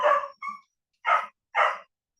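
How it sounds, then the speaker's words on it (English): A puppy barks in short sharp yips, two quick ones followed by a pause and then two more, close and loud with silence between them. "I'm sorry if you guys hear my puppy barking."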